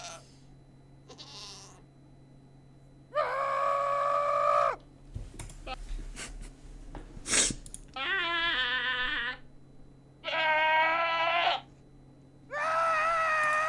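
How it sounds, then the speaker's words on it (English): Screaming goats in the video game Minecraft, four loud, drawn-out shrill human-like screams spaced a couple of seconds apart, with some brief scuffling noises and faint talk between them. "Screaming goats. Goats are found in mountainous biomes."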